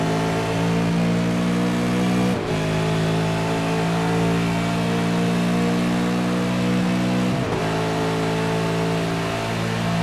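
V8 race cars at Fuji accelerate onto the pit straight, a loud, sustained engine scream rising in pitch through the gears with two sharp upshift breaks, close and continuous.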